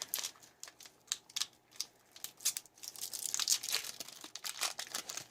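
Crinkly tearing and rustling as the wrapper of a Type 1 ration bar from a 2016 Chinese special forces ration is pulled open, a run of irregular close crackles and rips, fairly quiet.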